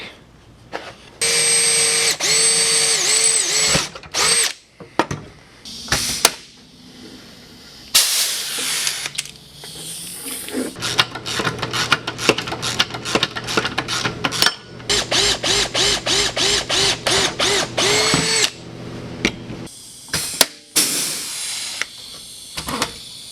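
Power tool driving bolts to install an aftermarket nun/chassis brace kit on a 2005 Ski-doo Summit snowmobile: repeated loud whirring bursts of a drill or impact driver, some sustained and others in quick stuttering pulses, with hiss between and no talk.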